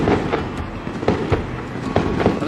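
Fireworks bursting repeatedly somewhere out of sight along a remote desert road in China, a steady run of sharp pops and crackles at medium distance, spread irregularly through the clip with no talking.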